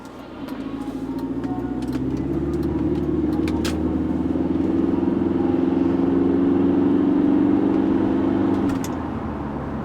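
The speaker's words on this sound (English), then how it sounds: "I'll accelerate quite quickly out here so you can listen to the engine." A 2.0 TDI diesel engine in an Audi A4 Cabriolet B7 with Multitronic transmission rumbles steadily and builds as it accelerates, a low droning roar that swells and holds for several seconds before easing slightly.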